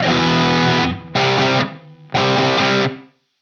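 A Friedman 100 crunch amp model on a Quad Cortex with reverb plays three loud, distorted electric guitar chords, each held and cut off, with a short reverb tail after the last.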